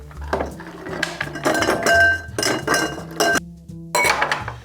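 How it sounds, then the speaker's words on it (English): Ice cubes clink and knock against a glass while a vodka and pineapple cocktail is prepared, a string of close, sharp clatters and rattles in uneven bursts with brief pauses, no voices. "And apparently I'm struggling with my ice."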